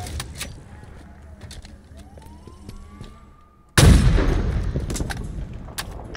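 Gunfire in the Halo Infinite video game, a quiet stretch of scattered shots and a rising whine that gives way to a sudden loud burst of close, sustained firing.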